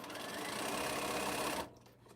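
Home sewing machine stitching quilt block pieces, a steady close whirring run that holds for about a second and a half, then stops abruptly, leaving a quiet room.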